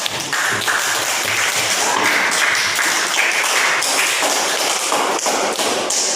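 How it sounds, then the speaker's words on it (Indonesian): A class of students in an online teacher-training lesson applauds the second group, a dense, steady patter of many hands clapping close by for several seconds without talk. "tepuk tangan kelompok kedua"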